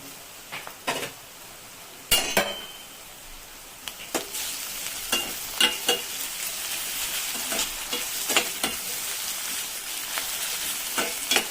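Crushed ginger and garlic sauté in a pan with a soft, steady sizzle, broken by irregular spatula scrapes and clinks against the metal, close and fairly quiet, with no talk.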